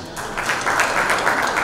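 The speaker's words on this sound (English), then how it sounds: "Please give a huge round of applause and welcome him on stage." Audience applause greeting former Indian cricketer Wasim Jafar as he comes on stage at a corporate T20 cricket event, steady clapping from a crowd, fairly loud and continuous throughout.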